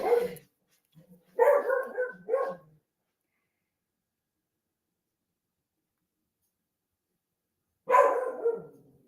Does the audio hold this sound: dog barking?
yes